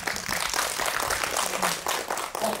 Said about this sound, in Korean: 배우님 이명줄 배우님께도 박수 한번 부탁드릴게요